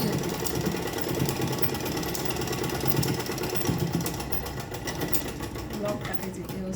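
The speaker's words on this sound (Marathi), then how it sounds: "परत त्याला ना अजून डबल स्टिच करून घेऊ" A sewing machine runs a double stitch, a loud, continuous mechanical whir and rattle held steady throughout.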